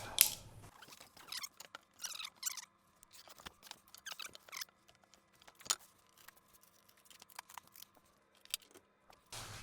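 Scissors snip through cardboard while a custom-size shipping box is cut out, giving a run of irregular crisp close cuts and rustles with short pauses between them, no talking.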